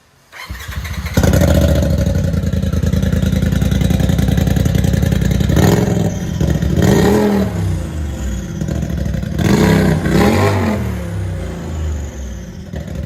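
A 2021 Polaris RZR XP 1000 Turbo fitted with a Black Widow BW0013-2 Widowmaker muffler starts up, then idles loudly before several rising throttle revs, close by and unaccompanied by talk.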